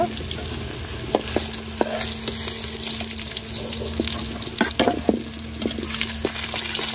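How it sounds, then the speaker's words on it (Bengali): Gajar fish frying crisp in hot oil, a dense close sizzle with sharp crackles and pops scattered through it and a faint steady hum underneath, no speech. "মাছটি আমি কড়া করে ভাজা নিচ্ছি"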